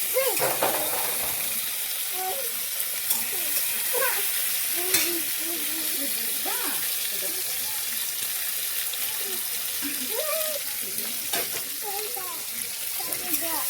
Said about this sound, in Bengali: হ্যাঁ, এবার আমার এটা একটু লাল করে ভাজবো